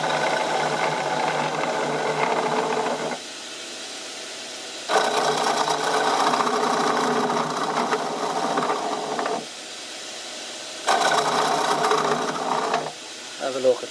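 Wood lathe turning a tea light holder, a steady whirring drone with tool noise that rises and falls in alternating louder and quieter stretches.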